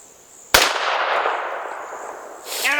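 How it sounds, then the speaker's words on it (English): One sharp, loud blast from a Remington 12 gauge shotgun fired at a bowling ball on an outdoor range, followed by a long ringing echo and another faint metallic rattle near the end. "Next up is my Remington 12 gauge hunting rifle, hunting shotgun."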